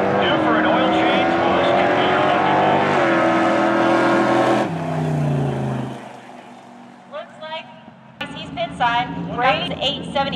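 A 1964 Chevy drag racing car roars loudly at Coles County Dragway for several seconds, then the engine noise drops away and a public-address announcer talks over quieter track ambience.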